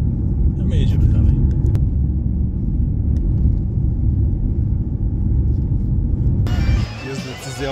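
Steady low rumble of a car driving along a road in Turkey, heard from inside, continuous road and engine noise throughout with a brief change near the end.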